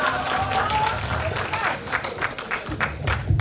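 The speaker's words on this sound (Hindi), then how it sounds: "जोरदार तालियां हमारे ऋतिक रोशन के लिए" Crowd applause at a grand seminar event, a busy spread of claps filling the clip with scattered louder hits, mixed with crowd murmur and voices.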